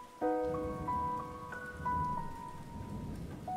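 Rain falls steadily in a Korean visual novel game, a continuous wash of raindrops under a sustained tonal music note and soft background chimes, with no voices.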